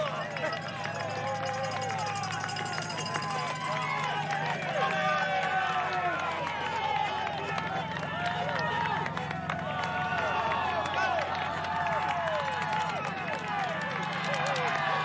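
A cheering crowd of spectators lines a Tour de France climb on Stage 1, a loud, continuous roar of shouts, whistles and clapping, with a commentator talking over it.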